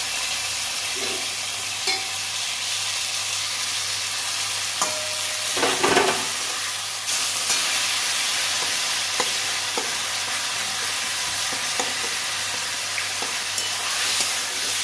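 Chopped tomato and turmeric sizzle and fry in a pan while a utensil stirs and scrapes through them, a steady close frying hiss with intermittent stirring knocks and no talking.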